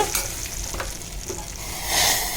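Chili powder is stirred into hot oil in a pan for mango pachadi, giving a soft, close sizzle with a few faint scraping strokes and a brief brighter hiss near the end.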